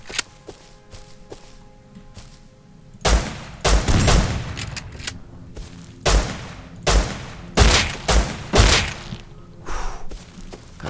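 M4 rifle fire in the game Rust: after a quiet stretch, a series of loud, close gunshot bursts in uneven rapid clusters, separated by short pauses.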